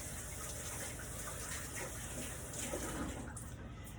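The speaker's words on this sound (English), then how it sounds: "I wash my hands again." Hands are washed under a running tap in a home kitchen during country brunch baking, giving a steady, moderately close rush of water that continues for the whole stretch with no talking.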